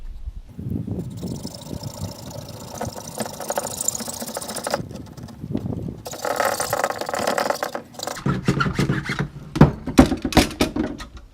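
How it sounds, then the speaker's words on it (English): A very old Swedish-made hacksaw cuts through a pipe for a fishing-pole container, irregular rasping strokes in uneven bursts with brief pauses and clunks between them, close and moderately loud. "Obviously it's a hacksaw. You're gonna wanna go on the line and cut it."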